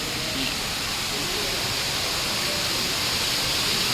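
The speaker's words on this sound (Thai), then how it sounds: "นี่เจอน้ำตกก่อนยังไม่ทิวลิปนะทุกคน" Waterfall at a tulip garden in Rayong, Thailand, a constant, dense rush of falling water that fills the scene evenly from start to finish with no other sounds standing out.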